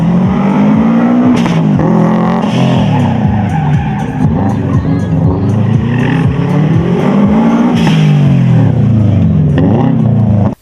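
Subaru Impreza race car at a race party event, its engine revving loudly and continuously with rising and falling pitch sweeps, close and dominant, with tire squeal hints throughout.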